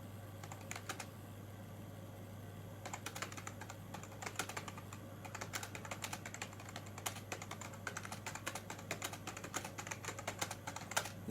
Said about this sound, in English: even now, you see me typing